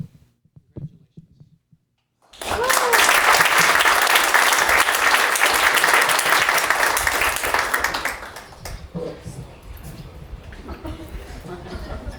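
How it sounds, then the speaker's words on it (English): Applause breaks out at an awards ceremony after a couple of seconds of near silence and scattered sounds, rising loud and dense, then thinning into scattered lighter clapping toward the end. "First time I've got applause on a retake."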